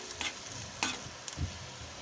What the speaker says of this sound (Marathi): चांगल्यापैकी हलवून घ्यायचं असं व्यवस्थित, एक जीव झाला पाहिजे